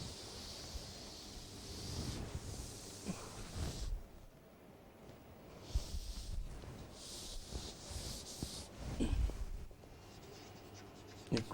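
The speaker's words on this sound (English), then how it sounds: "I am writing here now." An equation written by hand for a maths lesson, heard as soft, intermittent scratching strokes in short bursts with brief pauses between, close and fairly faint.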